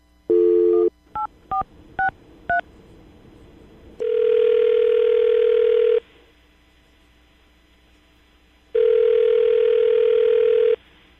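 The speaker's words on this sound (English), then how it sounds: "I'm going to dial the phone number right now" Telephone dialing for a morning radio show call: a short burst of tone, five quick DTMF keypad beeps, then two long ringback tones separated by quiet, all loud and close with no talk.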